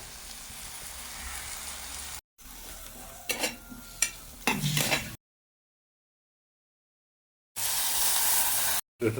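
Bitter gourd hits hot oil in a pan and is stir-fried, giving a dense sizzle broken by sharp scraping strokes, then a gap of silence before a loud hiss returns.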